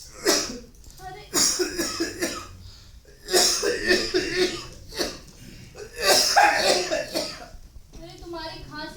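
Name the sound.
person coughing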